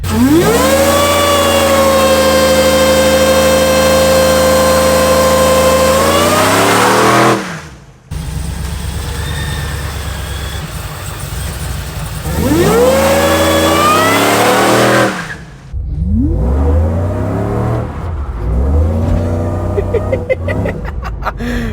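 A supercharged Chevrolet Suburban on 305 rear tires doing a burnout, its engine revving hard in long rising and falling sweeps that cut off abruptly and repeat, loud and close, with tire spin between revs.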